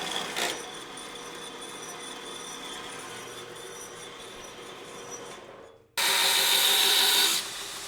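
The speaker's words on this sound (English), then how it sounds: "drill a hole in it" A power drill bores a hole into a forged metal dragon head in a blacksmith's shop, running loud and steady for about a second and a half after a long stretch of quieter shop noise.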